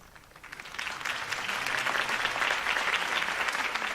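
Steady crowd applause in a Batman The Telltale Series game scene after a Harvey Dent campaign speech, a broad wash of many hands clapping that swells slightly and holds at a moderate, even level throughout.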